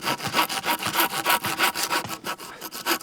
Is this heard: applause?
no